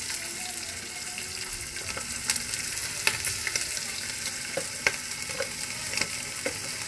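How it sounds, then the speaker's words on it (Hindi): Garlic and ginger paste sizzles as it fries with light-browned onions in a pan. The steady frying hiss carries throughout, with occasional sharp clinks and scrapes from stirring. "यहाँ देखिए प्याज लाइट ब्राउन हो चुका है, इसमें लहसुन अदरक का पेस्ट ऐड कर रही हूँ।"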